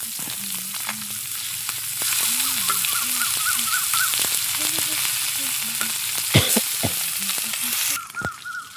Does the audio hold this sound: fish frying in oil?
yes